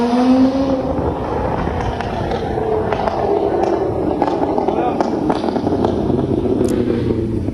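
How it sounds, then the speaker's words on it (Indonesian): Two luxury cars speeding along busy Jalan Gajah Mada in Pontianak, West Kalimantan: engines roar and cars pass loudly and continuously, with voices talking over the traffic noise. "Inilah video dua mobil mewah yang sedang kebut-kebutan di Jalan Gajah Mada, Pontianak, Kalimantan Barat."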